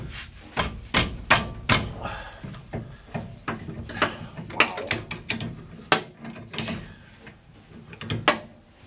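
Old vice grips worked against metal during a home wheel alignment on a 1968 Lincoln, heard as a close, irregular run of sharp clanks, clicks and ratcheting knocks with no talking.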